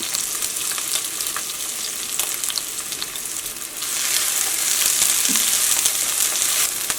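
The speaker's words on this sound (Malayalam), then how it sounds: "ഈ സവാളയ്ക്ക് നന്നായിട്ടൊന്ന് വഴന്ന് വരട്ടെ." Sliced onions sauté in an oiled pan with curry leaves and crushed dried red chilli, giving a steady close sizzle with occasional stirring scrapes that grows a little louder partway through.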